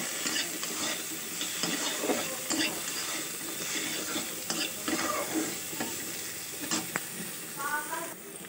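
Oil sizzles in a pan as greens fry with a little turmeric and salt, a steady crackle broken by scraping stirs of a spatula, close and fairly loud, with no voices.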